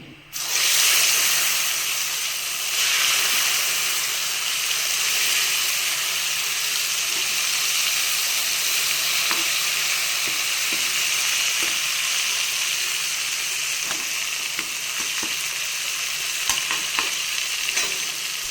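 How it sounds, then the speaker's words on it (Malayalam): A batch of brinjal slices frying in hot oil, a loud, steady sizzling hiss that starts abruptly and holds throughout, with occasional pops and faint clicks late on. "ഇനി അടുത്ത ബാച്ചും വറുത്തെടുക്കാം"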